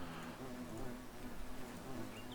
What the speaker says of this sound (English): It looks like these bees are exhausted too